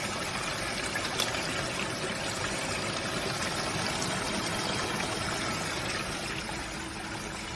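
Water rushes steadily through a sluice box, washing rocks and material along its length in a continuous, loud, close flowing stream with no pauses.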